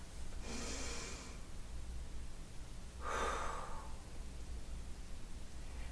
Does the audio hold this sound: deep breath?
yes